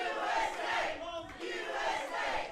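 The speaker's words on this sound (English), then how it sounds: "They're obviously, again, chanting for the referee." A wrestling crowd chants in unison for the referee, rising and falling in rhythmic waves with a brief dip in the middle, loud and reverberant in an arena.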